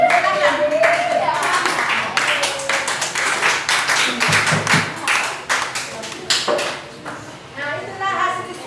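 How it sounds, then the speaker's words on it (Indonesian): A classroom group claps together for students' group presentation, a burst of scattered, uneven hand claps lasting several seconds, close by, with a few voices talking over it. "Beri aplaus untuk kelompok 2"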